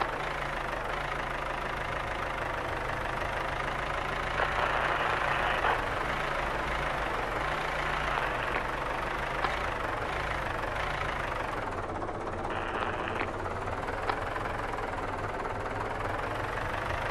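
Fire truck engine idling steadily on arrival at an emergency scene in the Firefighters 2014 game, a continuous low rumble with a slight knocking texture, holding at a constant level throughout with no talk.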